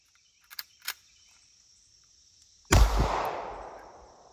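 A single sharp 9mm shot from a Hi-Point C9 pistol outdoors, a loud close bang with a decaying echo, preceded by two faint metallic clicks of handling amid steady insect chirping.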